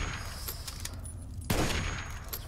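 Rapid bursts of automatic gunfire in Fallout 3, a sustained rattling volley with one sharper, heavier crack partway through, mid-distance and steady with no talk.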